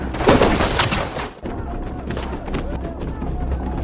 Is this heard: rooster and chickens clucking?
no